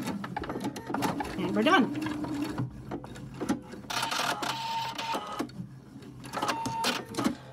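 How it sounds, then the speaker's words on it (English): Sewing machine stitching elastic onto a fabric mask for a flute player, running in short close bursts of rapid mechanical whirring with pauses between, while a person talks over it. "Elastic goes in, folds over the top, and we sew it."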